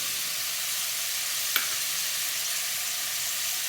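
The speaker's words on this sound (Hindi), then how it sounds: "अब अच्छे तरीके से हम इसकी 5 मिनट बुनाई कर लेंगे।" Potatoes and carrots frying in a pan with salt and turmeric give a steady, even sizzle with one small click near the middle, no voices.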